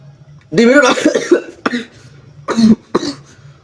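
A burst of harsh, repeated coughs breaks out in quick succession, then several more hacking coughs follow after short pauses, loud and close.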